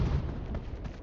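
A grenade explodes in a battle royale game, a single short low boom that rolls off over about a second.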